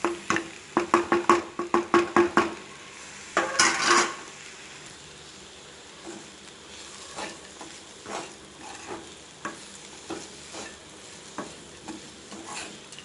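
Ingredients for an ivy gourd chutney, including coconut and tamarind, are stirred in a pan, giving a burst of quick scraping strokes near the start, then sparser, softer scrapes and taps spaced through the rest.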